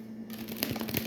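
A deck of tarot cards being shuffled close up, a brief papery riffle of soft rapid flicks that starts after a short quiet moment, with no speech.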